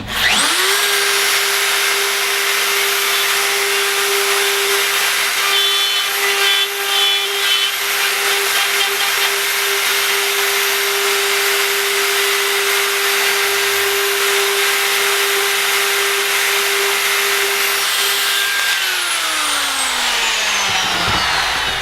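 A router plunge-cutting an inlay recess into wood: a loud, steady high-pitched whine with a grinding cutting edge, held nearly constant for about eighteen seconds before the motor spins down.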